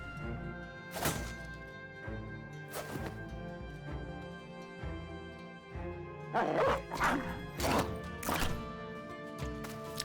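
A dog in a medieval survival video game barks and snaps while biting, giving several sharp barks and thuds in bursts over a steady background drone of game sound, loudest near the end.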